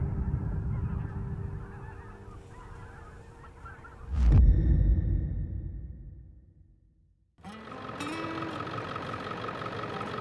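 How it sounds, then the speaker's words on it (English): A large flock of geese honks at a waterfowl hunting spot: dense, continuous calling carries over a low rumble, then a louder burst of honking, fading into quiet before the chorus of calls returns. "Wow, that's a lot of birds,"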